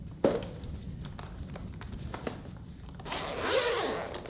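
A zipper is drawn open on a protective case for a portable solar panel, two quick close rasps separated by light handling and rustling.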